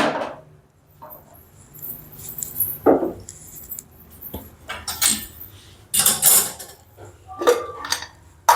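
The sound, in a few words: kadhai pan being handled on the gas stove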